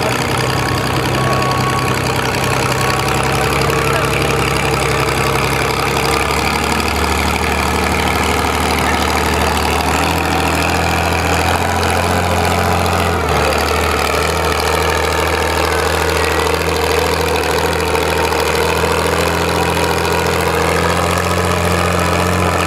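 An Oliver 77 tractor engine runs steadily at a tractor pull, a loud continuous mechanical drone with a low rumbling throb that persists without a break.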